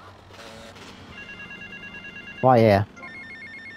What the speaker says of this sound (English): Oh wait, I got a phone call.